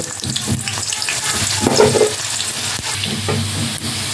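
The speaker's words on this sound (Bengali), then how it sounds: "কড়াইতে তেল দিয়ে দিয়েছি, তেল গরম হয়ে গেছে। এখন আমি আলু ভেজে নেব।" Potatoes fry in hot oil in a kadai (wok), a loud steady sizzle with occasional stirring clatters and scrapes, no voices.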